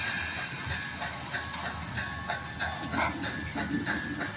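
Model railroad sand train running steadily, with a continuous mechanical rumble and faint rhythmic clicking and hissing throughout, fairly close and without talk.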